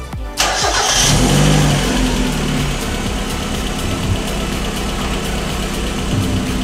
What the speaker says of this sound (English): And now we're gonna start it up and check.